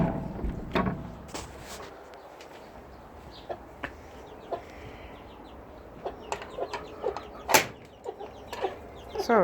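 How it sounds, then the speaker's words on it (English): Hens cluck in a doggy playground shared with goats, including a mother hen with two chicks; short, scattered calls and soft clucks come and go at moderate distance over a low background hum. "And then here is Big Mama with her two chicks."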